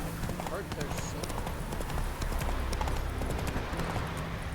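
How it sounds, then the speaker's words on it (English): Horse hooves clip-clopping in The Witcher 3 video game, a steady rhythmic trot running under continuous speech. "Whoa there, Roach."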